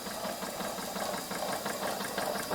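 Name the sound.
small engine running an air compressor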